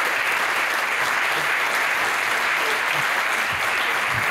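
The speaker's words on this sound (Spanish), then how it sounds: "Crec que avui se mereix un fort aplaudiment al nostre presentador, Santi Albol" Steady, dense applause from an audience at a bullfighting gala fills the whole stretch, loud and continuous with no voices standing out.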